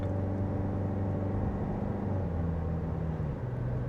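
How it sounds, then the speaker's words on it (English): The 2-liter 4-cylinder hybrid engine of a 2025 Toyota Corolla Cross Hybrid Nightshade drones steadily from inside the cabin, a constant low hum without talk. "this 2-liter 4-cylinder is very nasally. It is very loud."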